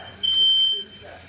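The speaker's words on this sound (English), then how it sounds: "that was a alarm. Smoke alarm." A smoke alarm gives a single sharp, high electronic beep of about half a second, set off by grease on the stove while homemade potato chips fry; a quiet kitchen hum sits underneath.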